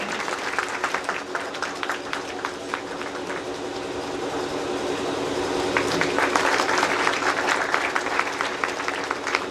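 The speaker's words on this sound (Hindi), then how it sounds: "प्लीज आप लोग ताली बजाते रहें।" Audience at a motivational seminar clapping steadily, a dense continuous applause filling the room and swelling slightly louder midway through.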